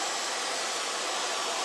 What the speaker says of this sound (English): What setting do I have my hairdryer on? I am on high fan and mid to low heat.